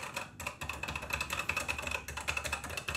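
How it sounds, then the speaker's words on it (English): Fast, steady typing on a beige TI-99/4A home computer keyboard gives dense, crisp clacking keystrokes close up, almost without pause and with no voices. "This is really a great sounding keyboard."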